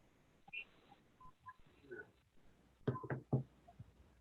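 Telephone dialing tones during a public hearing as a caller is connected by phone; several short separate beeps at first, then a louder cluster of tones and clicks, over a quiet room.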